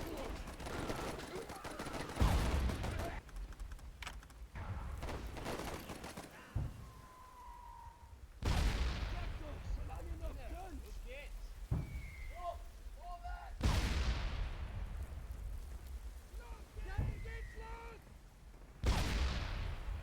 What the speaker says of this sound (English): mortar round landed right on top of that guy